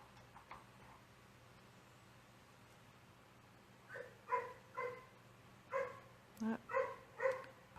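Several small puppies yip and bark in short bursts a little way off, starting after a quiet stretch and coming in quick clusters of high, sharp barks.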